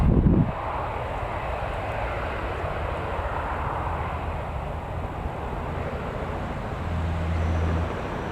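An aircraft at Newcastle Airport, a broad steady engine roar heard from a distance, even and sustained for the whole stretch after a brief bump at the start, with no voices.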